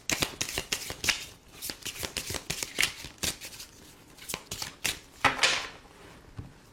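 Oracle cards are shuffled by hand up close, giving a rapid run of crisp riffling flicks and slaps in irregular bursts with short pauses between, and no talking.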